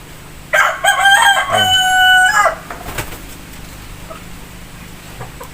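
A rooster crows once, loud and close, in a long ringing call, followed by quieter farmyard background and faint low sounds.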